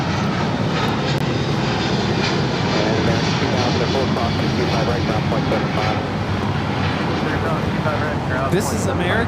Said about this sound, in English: This is American Airlines Flight 138 taking off to London Heathrow on the 777-200 ER.